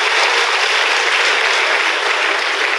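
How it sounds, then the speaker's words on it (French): A church congregation claps steadily for Jesus, producing a dense, continuous roar of applause that stays loud and even throughout, with no voices rising above it. "Clap for Jesus. Acclamez pour Jésus-Christ."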